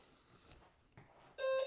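A workout timer gives a short, loud electronic beep at the end, after a near-silent stretch with faint clicks.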